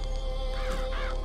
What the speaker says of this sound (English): Murder of Crows is probably the best one.